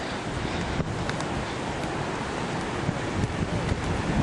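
Heavy sea at Bondi Beach: steady, broad roar of surf mixed with gusting wind buffeting the microphone, loud and continuous with no voices.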